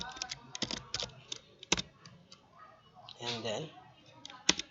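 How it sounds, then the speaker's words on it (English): Password keyed in on a computer keyboard, a burst of quick, sharp clicks with a few louder strikes, close by, with someone speaking briefly in the middle. "Then just type there password"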